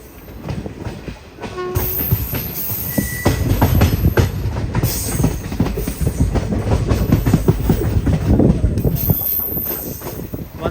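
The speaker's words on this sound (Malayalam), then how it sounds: "ഉടുപ്പി റെയിൽവേ സ്റ്റേഷനിലേക്ക് ഇതാ നമ്മുടെ ട്രെയിൻ എത്തിക്കൊണ്ടിരിക്കുകയാണ്" A passenger train pulls into Udupi railway station with a continuous loud rumble, rhythmic wheel clatter over rail joints and brief high squeals, heard close from on board with a steady roar throughout.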